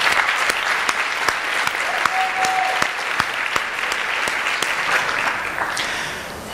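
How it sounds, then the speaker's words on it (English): An evening gathering applauds one another, broad sustained clapping from a room full of people with a few sharper claps standing out, continuous throughout at moderate volume. "I would like to ask you to applaud one another for the work you do"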